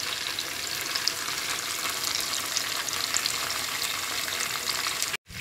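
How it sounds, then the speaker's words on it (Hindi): Chicken fries in a pan for a chicken 65 recipe, a loud steady sizzle throughout that briefly cuts out near the end, with no voice over it. "जो भी और चिकन है उसको मैं ऐसे ही फ्राई कर लेती हूँ"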